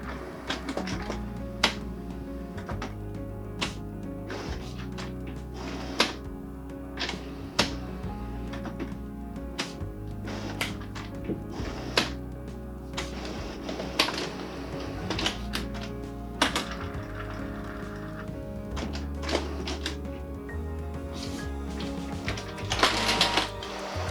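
Canon XK500 inkjet printer preparing and printing: sharp mechanical clicks and thunks at irregular intervals over low whirring motor runs that start and stop, fairly close and with no one speaking.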